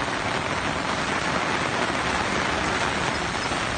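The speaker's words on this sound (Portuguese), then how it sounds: "Chuva, mais chuva," Heavy rain pours steadily onto a street in Sobral, Ceará, a dense, unbroken hiss that stays loud and even throughout, with no voices over it.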